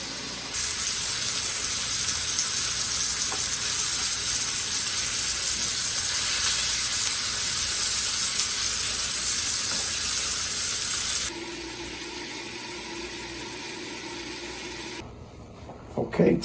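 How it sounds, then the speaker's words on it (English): Top round steak browning in butter in a pan, a loud steady sizzle for about eleven seconds that drops to a quieter fry before fading out near the end. "We've got a delicious top round. Gonna brown it in butter."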